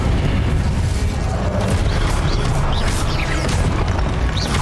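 The Incendio fire spell cast in the game Hogwarts Legacy, a dense, loud, continuous roaring burst of flame and rumble filling the whole moment with thick low-end energy and crackling highs.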